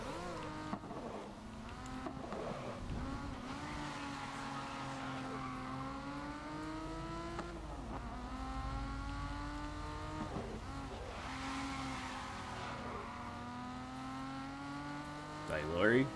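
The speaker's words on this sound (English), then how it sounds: "Just these weird, like, futuristic rally races?" Futuristic rally race cars in a video game give a continuous engine whine whose pitch keeps sliding up and down as they accelerate and turn, with a brief louder burst right at the end.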